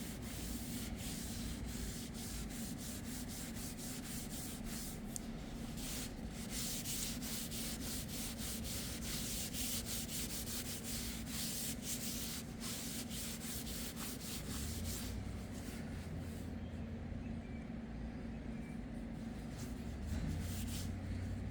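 A worn wooden hammer handle being scraped to remove dirt and old finish, a long, continuous dry rasping rub that stays close and fairly quiet, with rhythmic strokes and no talking.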